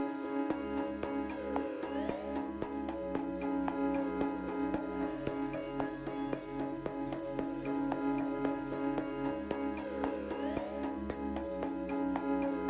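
A synthesized bass line pulses continuously with a dark, droning tone and layered harmonics, steady and upfront, with no talking.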